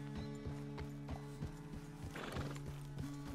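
Horse hooves clip-clopping at a steady walking pace in Red Dead Redemption 2, with a whinny partway through, close and clear over low game music.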